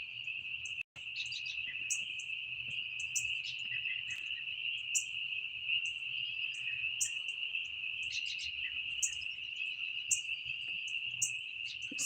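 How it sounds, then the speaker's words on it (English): Frogs and insects call at night in the countryside, a steady high trilling drone with repeated short chirps layered over it, continuous and moderately close, with no one talking. "I just wanted to let you hear the frogs."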